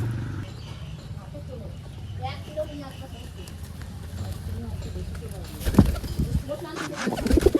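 Pigeons coo softly nearby, low murmuring calls mixed with fluttering and shuffling that grows louder toward the end, while people talk over them.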